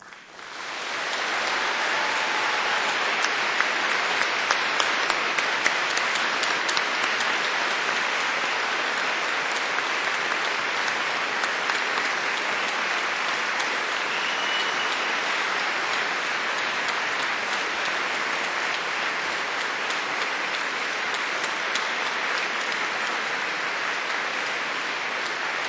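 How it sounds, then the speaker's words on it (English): Sustained, dense applause from a large crowd of graduates at a university medical graduation ceremony, steady and even for about twenty-five seconds with little variation. "giving them an enthusiastic round of applause"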